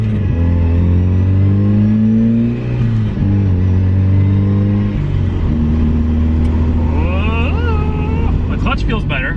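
Car with an upgraded differential driving and shifting: a loud low engine drone rising in pitch under acceleration, dipping briefly at gear changes, heard from inside the cabin.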